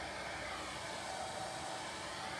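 A blow dryer runs steadily on a flat wet-on-wet watercolor wash, giving a loud, continuous, close airy roar with no pauses and no talking.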